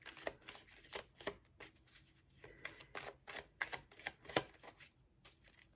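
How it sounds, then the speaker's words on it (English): Tarot cards shuffled by hand, a rapid run of crisp riffling flutters and soft slaps in irregular bursts, close and fairly quiet, with no speech. "Okay, 2 more shuffles."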